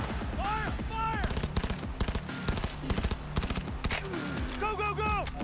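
Rapid gunfire bursts in the video game Cyberpunk, sharp broadband cracks in quick clusters over a dense combat soundscape, with shouted voices and musical or synthetic tones layered in.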